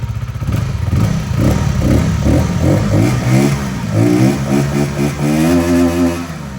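A VOGE R125 125cc water-cooled motorcycle engine revs up and down repeatedly. The loud, close burble comes in pulsing throttle blips, then climbs into longer, higher revs.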